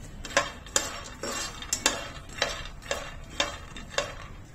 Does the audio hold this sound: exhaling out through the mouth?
no